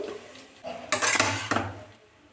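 A metal spoon scrapes and clanks against a metal wok as cooked rice is mixed, giving a short burst of close, loud scraping and knocks that trails off into quiet.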